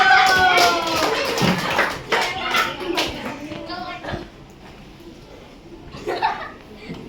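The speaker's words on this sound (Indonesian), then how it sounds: "Tepuk tangan dulu" Schoolchildren at an elementary school outreach session clap together in a short burst, mixed with children's chatter and laughter, then the noise thins to scattered voices and shuffling with a brief flare of clapping near the end.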